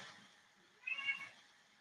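A cat gives a short meow that is quiet and somewhat distant, heard alone against a soft background hiss.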